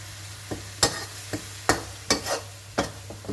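Food frying in a pan for Thai nam prik ong in a rural home kitchen: a low steady sizzle broken by sharp clacks of a utensil stirring and scraping, spaced about every half second, with no talking.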